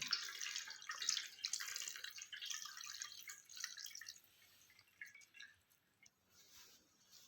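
Curdled milk held in a cloth is rinsed with two to three glasses of water to wash out the lemon sourness, giving a steady near trickle and splash of water that tapers off and turns patchy toward the end, with no talking.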